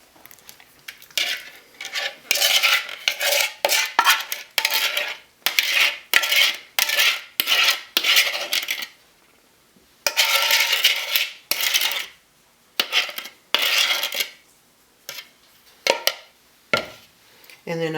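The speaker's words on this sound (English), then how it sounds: "And then we're going to put in our cherry mixture." Cherry pie filling is spooned into a pie crust in a deep-dish pan, making a long run of sharp, fairly loud clinks and scrapes of a spoon against the pan in irregular bursts with short pauses.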